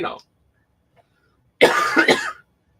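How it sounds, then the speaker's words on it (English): A brief cough at the start, then a pause and a harsher, louder burst of coughing lasting under a second, up close. "I really wish I wasn't coughing right now."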